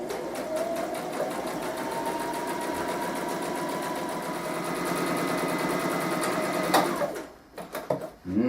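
A sewing machine runs steadily, stitching quilt seams in a fast, even mechanical whir, close and continuous for several seconds before stopping, followed by a few small handling clicks.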